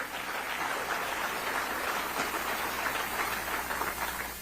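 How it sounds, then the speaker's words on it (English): Steady audience applause at a political speech on a Medicaid bill, a dense wash of many hands clapping throughout, fairly loud and even with no talk over it. "give them both applaud, they both deserve it"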